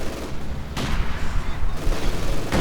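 A T-70 light tank opens fire in the World War II strategy game Company of Heroes 2, with a dense, continuous rattle of rapid gunfire and a few sharper bursts over a busy battle din.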